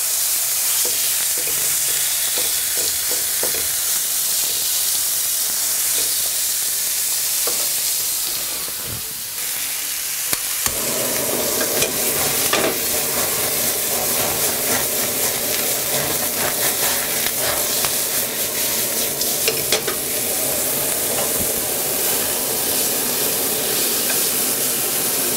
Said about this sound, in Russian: Кусок говядины жарится на том масле, которое прилипло от маринада.